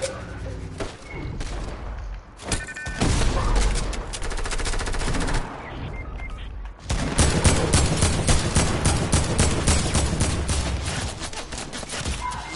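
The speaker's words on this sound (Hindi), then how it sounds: "Someone's shooting me." Rapid bursts of automatic gunfire from a Fortnite match, dense and loud, with sustained volleys and brief pauses between rattling strings of shots, no speech over them.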